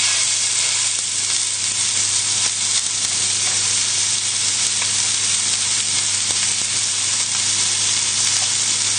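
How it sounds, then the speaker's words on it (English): Pork tenderloin browns in an oiled pan with a loud, continuous sizzle and hiss, steady and close throughout. "straight in with the pork. And this will make a lot of noise, but we're just going to brown it"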